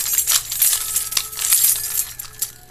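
Keys jingling and clinking in quick bright bursts, a cluster of metallic chinks repeating up close over a couple of seconds.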